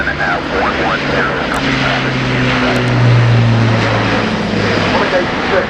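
An Airbus A400M military transport flies a display at the RIAT air show at Fairford, its propeller engines droning loud and steady and swelling midway, with a commentator's voice talking over it.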